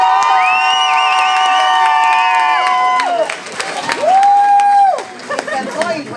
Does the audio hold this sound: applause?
yes